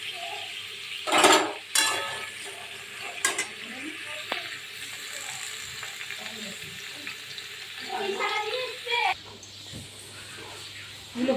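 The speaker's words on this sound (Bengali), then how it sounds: "এগুলো ভাজা হয়ে গেছে ভালো করে" Vegetables frying in a pan with salt, a constant sizzle broken by several loud stirring scrapes and clatters of a utensil against the pan, some faint voice in the background.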